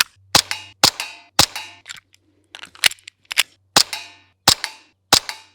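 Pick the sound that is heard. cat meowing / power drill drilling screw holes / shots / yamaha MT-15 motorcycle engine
shots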